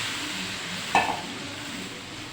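Tomatoes tumble into a hot frying pan with a soft splash and burst of sizzling, over a constant background hiss of frying.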